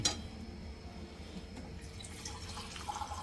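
Water pours in a faint, steady trickle into a cooking pot in a home kitchen, a soft continuous wash of liquid with no voices.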